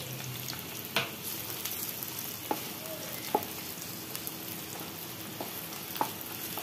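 Onions frying in leftover oil in a pan while cooking a dry jackfruit curry, a steady close sizzle with a few sharp stirring clicks spaced through it, no talking.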